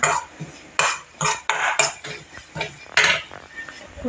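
A metal spoon scrapes and clinks against a pan while chilli powder and turmeric are stirred into chopped drumstick flowers, a series of short irregular strokes, close and fairly loud with no talk.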